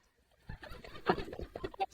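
Pigeons or doves coo outside, soft throaty calls that come and go over a quiet background.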